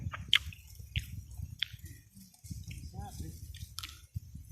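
Someone bites and chews crunchy jujube fruit close up, with several sharp crisp bites and wet crunching at irregular intervals, under low background murmur.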